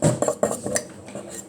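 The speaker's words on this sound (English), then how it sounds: "So you just gotta whisk, whisk, whisk," A whisk clinks and scrapes rapidly against a mug while mixing Oreo mug cake batter, close and fairly loud, with quick repeated metallic taps and no talking.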